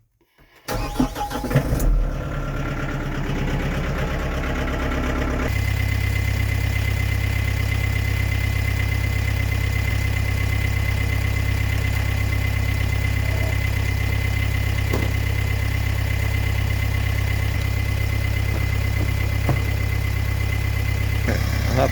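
A farm tractor starts up and settles into a loud, steady idle beside a roadside farm stand, its low engine drone running continuously after a brief rough start.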